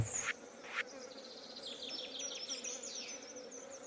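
Bees buzz around a hive in Stardew Valley, a soft layered drone with a few sharp clicks near the start.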